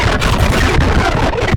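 Synthesized fireball throw built from white noise, with high flanger feedback from a Saturn effect and stereo imaging, a loud dense crackly rush sustained for over a second before cutting off abruptly.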